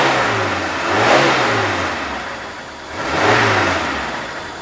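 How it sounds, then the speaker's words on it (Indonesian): A 1994 Daihatsu Zebra minibus engine revved twice, each time surging up loudly from idle and sinking back, close and with no one talking. "mesinnya masih suara kipas."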